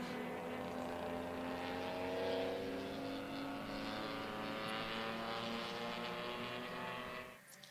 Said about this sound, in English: Levi deep on the brakes into the S's, down into turn 4, gets the car rotated in, grabs the curb